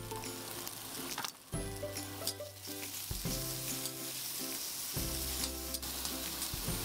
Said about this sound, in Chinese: 炒到啲洋葱软身